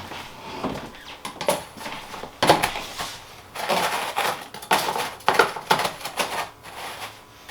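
Plastic diffuser and lid for an egg box handled up close, with irregular clacks, taps and rattles in short clusters and no talking.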